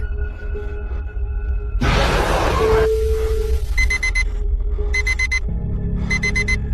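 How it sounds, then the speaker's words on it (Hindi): An alarm clock rings in bursts of rapid electronic beeping, loud and close, after a brief rush of noise, with a faint steady tone in the background. "अलार्म की आवाज सुन"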